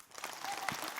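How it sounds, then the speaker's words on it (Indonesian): Short burst of studio audience applause during an Islamic talk show on dowry, moderately quiet, a brief wash of clapping from a crowd. "Tepuk tangan dong."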